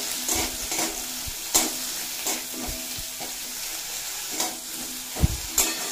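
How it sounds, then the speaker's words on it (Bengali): A small brinjal frying in a pan with poppy-seed greens, a constant close sizzle with the spoon striking and scraping the pan several times as it is stirred, no voices. "এর মধ্যে এড করে দেব একটা ছোট সাইজের বেগুন। বেগুনটা দিয়ে আবারো কিছুক্ষণ ভেজে নেব।"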